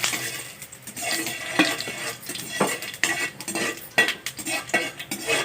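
Coriander seeds fry in a pan with fenugreek and cumin for a large gooseberry pickle, a utensil scraping and stirring through them in irregular clinks and rattles, close and moderately loud, with no talk.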